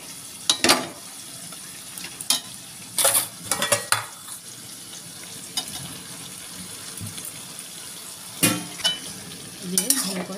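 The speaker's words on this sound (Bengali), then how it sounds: "এবার আমি আলুগুলো দিয়ে দেবো।" Potatoes go into a frying pan for a cauliflower and katla fish head curry and are stirred, giving sharp bursts of metal scraping and clattering over a low background sizzle, with quieter gaps between the bursts.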